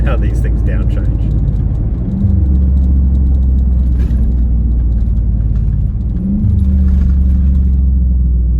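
A Nissan Y62 Patrol with a Manta cat-back exhaust downshifts, its deep exhaust note rumbling loud and close and stepping up in pitch twice as the gears change, while someone talks over it.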